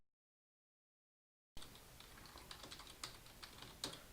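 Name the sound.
typing an email address on a computer keyboard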